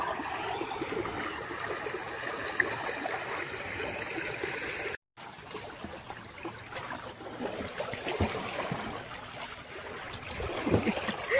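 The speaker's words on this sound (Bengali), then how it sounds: "নৌকা বেরোচ্ছে বন্ধুরা" A small fishing boat heads out on a shallow Sundarbans river, with continuous water wash and trickling around the hull and a brief dropout midway, with no voices.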